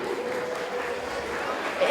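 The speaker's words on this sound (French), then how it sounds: "Vous pouvez applaudir également Elena Bertuzzi." Steady applause from an audience at a street dance show greeting a dancer, a dense even wash of clapping that holds for the whole moment with a slight swell at the end.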